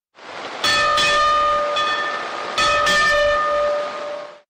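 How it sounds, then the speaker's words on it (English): A ceremonial bell rung at the opening of a redeveloped naval base, two clear ringing strikes with long sustained tones, each followed by a shorter strike, loud and alone. "the program proceeded with the ringing of the bell to signify the opening of the redeveloped naval base"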